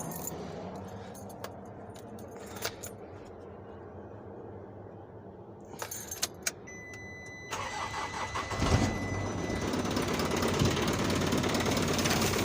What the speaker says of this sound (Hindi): और ये गाड़ी हम स्टार्ट करें।